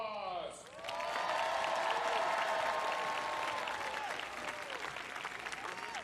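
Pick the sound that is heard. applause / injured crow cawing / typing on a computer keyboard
applause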